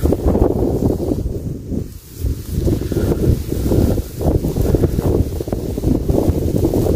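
Strong wind blowing across a vegetable garden planted with cauliflower and chili, a loud continuous roar buffeting the microphone with gusty swells and no clear talk.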